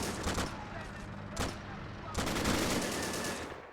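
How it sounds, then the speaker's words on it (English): Bursts of automatic gunfire from the video game Army Men: Plastic Wars, a couple of short rattling volleys followed by a longer sustained burst, loud and close with no speech. "He's shooting out. Then he gets gunned down."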